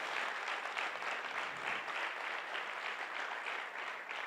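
A church congregation breaks into sustained applause during a sermon, a steady, even patter of many hands clapping at moderate distance, with no talk over it.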